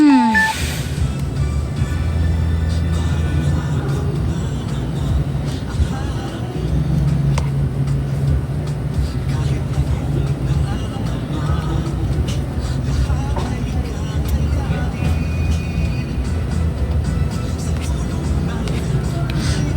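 Steady road traffic with cars passing in a Philippine setting, a continuous low rumble of engines and tires throughout, with people talking over it.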